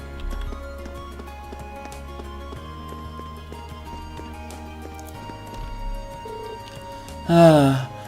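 Horse hooves clip-clopping near stables in the video game Legend of Heroes: Trails of Cold Steel, a steady trotting rhythm under game music, ending in a brief loud whinny-like burst.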